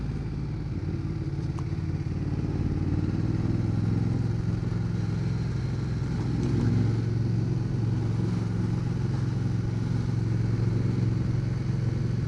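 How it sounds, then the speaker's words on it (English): A 2011 Ducati Diavel Carbon motorcycle engine running at a steady, deep rumble throughout, close and loud with a slight swell partway through. "Get your motor running. Oh, this sounds so nice."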